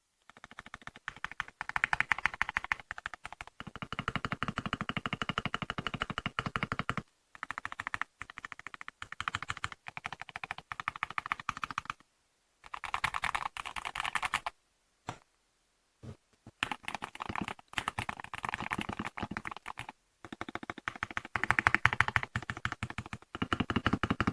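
Steady, fast clacking of keys on a mechanical keyboard, recorded close, with a few short pauses between typing bursts.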